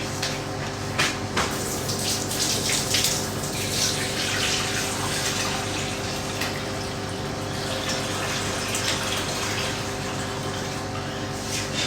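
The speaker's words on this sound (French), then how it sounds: "Faut mettre de l'eau maintenant." Water runs steadily from a tap, a continuous close rushing flow that holds for the whole stretch with no speech over it.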